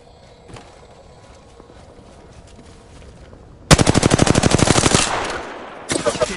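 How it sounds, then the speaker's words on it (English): In a video game, quiet shuffling gives way to a loud burst of rapid automatic gunfire, each shot sharply separated. A brief pause follows, then a second burst near the end. "Making contact with the enemy. Opening fire on the enemy."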